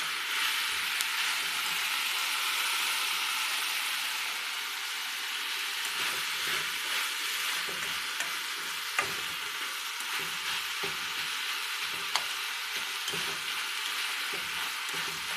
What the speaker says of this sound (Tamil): தக்காளி லைட்டாக கொஞ்சம் வதங்கட்டும்.